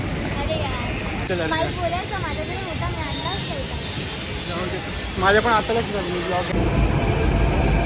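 A metro train hisses and rumbles as it pulls into a station while a person talks over the steady noise.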